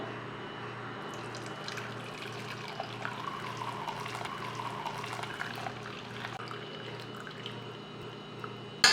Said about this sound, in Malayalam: അപ്പോൾ ഒന്ന് അരിച്ചൊഴിക്കാം